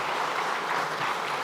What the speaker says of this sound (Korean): 위로와 격려의 박수 드리도록 하겠습니다